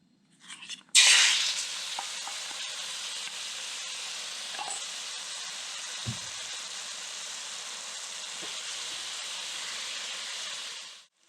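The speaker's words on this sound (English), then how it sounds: "we're going to start off with some neutral oil in the brazier. I have some venison loin chop." Venison loin chop, marinated in soy sauce, cornstarch, oil and black pepper, hits hot neutral oil in a brazier with a loud burst, then settles into a steady, even sizzle that holds close up until it cuts off.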